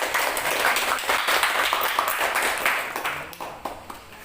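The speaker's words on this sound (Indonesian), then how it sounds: "tepuk tangan untuk kalian kita semuanya karena sudah bagus" Students in a classroom applaud together, a dense, steady burst of clapping that fills the room and tapers off slightly toward the end.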